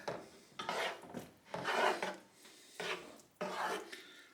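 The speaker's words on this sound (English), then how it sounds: "So you add the fresh basil to your pot. Stir it in." Fresh basil being stirred into a pot of fresh-tomato marinara sauce, heard as four separate scraping, rubbing strokes of a spoon against the pot at an even pace. The strokes are close and clear, with no talking.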